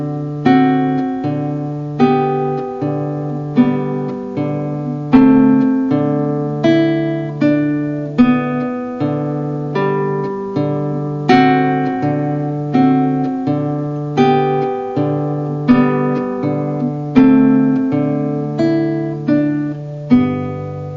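Solo classical guitar plays a Country Dance passage as a steady run of plucked notes over repeated bass notes, each attack ringing and decaying in an even, moderate rhythm, close and clear with no talking.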